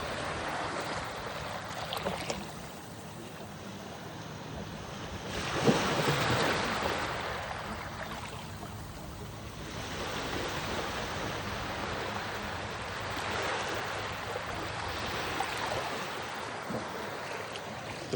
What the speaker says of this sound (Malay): Actually the sound waves of the waves, bunyi air ombak ni sendiri pun dah healing kan.